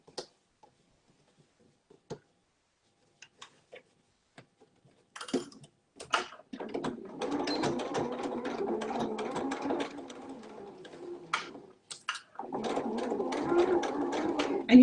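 A home sewing machine stitches a small fabric mini wallet with fleece, running in two bursts of quick rhythmic whirring and needle tapping after scattered handling clicks and taps.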